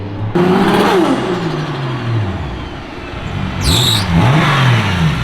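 A Nissan R34 Skyline with its RB engine revs on a dyno, loud and close, pitch sweeping up and down through several throttle blips, with a brief sharp whine near the end.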